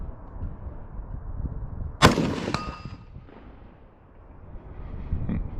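A single sharp gunshot from a Panther Arms DPMS LR-308 first-generation AR-10 rifle in .308, loud and close, with a ringing metallic tail fading into outdoor background noise.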